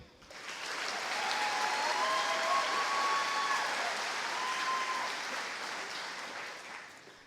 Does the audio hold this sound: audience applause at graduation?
yes